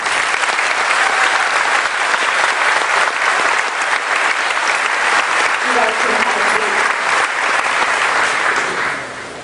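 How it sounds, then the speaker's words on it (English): Graduating class of 2012 at a high school commencement ceremony receives sustained, loud applause from the audience, a steady wash of clapping that fills the hall and eases off slightly at the end. "Please applaud these young men and women for their accomplishments."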